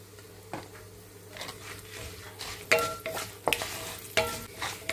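Mustard seeds, urad dal and asafoetida tempering fry and sizzle in hot oil in a pan, with soft crackles and pops scattered over a steady low hiss, close and moderately quiet.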